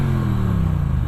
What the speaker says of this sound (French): il y a une sonorité rock, franchement la sonorité top